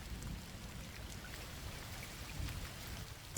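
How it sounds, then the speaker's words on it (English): Rain falls steadily through the night, a soft, constant hiss of drops with a low rumbling undertone, fairly quiet and unbroken, with no voices. "The rain never stopped that night."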